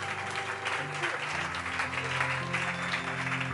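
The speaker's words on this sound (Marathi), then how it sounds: "जरा जोरदार टाळ्या प्रभू." Applause from a church congregation during a Marathi Christian sermon, a steady clapping wash throughout with a sustained musical tone running underneath.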